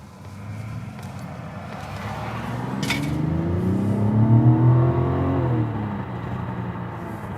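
A Mazda CX-90 Turbo engine in sport mode revs up steadily, its exhaust note rising in pitch and loudness as it accelerates, then easing off; close and continuous.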